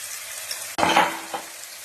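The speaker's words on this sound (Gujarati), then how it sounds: "લીલું લસણ અને ડુંગળી. બરાબર મિક્સ કરી દઈશું." Green garlic, dry garlic and onion stirred together in a hot pan, a low hiss that swells into a loud, close scraping sizzle as the spoon turns the mixture, then settles back, with no voices.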